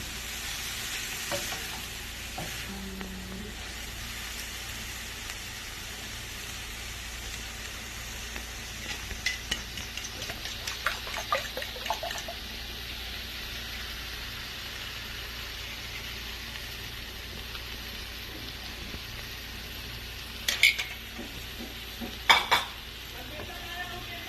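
Ampalaya (bitter gourd) with egg is stir-fried in a new pan, a steady close sizzle running throughout with occasional scrapes and clinks of a utensil against the pan.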